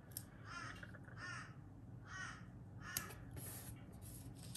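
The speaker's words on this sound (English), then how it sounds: "I genuinely hope you can't hear that crow." A crow caws outside about five times in a harsh, spaced series, moderately distant over faint background noise.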